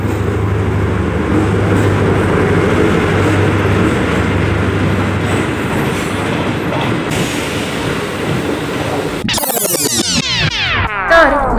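A passenger train travelling from Rajewadi to Pune Junction rumbles steadily with continuous wheel and carriage noise, then near the end a sharp burst of dense clattering as it passes close by.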